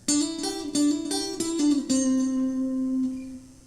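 Guitar plays the third riff section of a song: a few quick picked notes, then one note left ringing and slowly fading, played solo and close.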